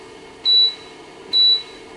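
A thermometer sounds two short, clear high beeps, evenly spaced about a second apart, over a faint steady hum.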